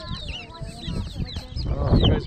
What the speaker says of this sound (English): Those are chickens.